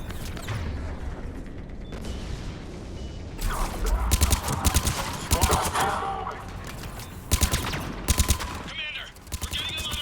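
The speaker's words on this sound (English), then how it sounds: "Commander, we're getting a lot of mortar fire." Mortar and gunfire barrage in the video game Mass Effect 3, with dense loud bursts and impacts hammering in clusters over a constant battle din, and faint voices mixed in.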